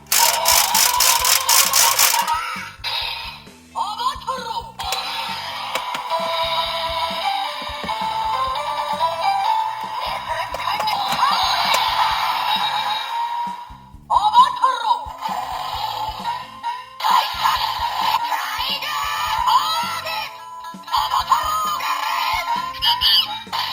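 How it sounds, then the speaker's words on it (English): Electronic monkey call from a DX Tiguardora toy with the Saru Brother gear inserted: loud, close screeching and chattering bursts that repeat several times with short pauses between them. "That was a monkey. So that is definitely a different sound for Saru Brother there."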